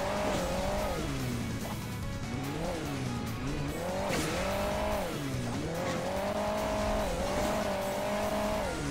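Cars race in the mobile game Hill Climb Racing 2, engines droning and rising and falling in pitch as they rev, with tire squeals, loud and continuous.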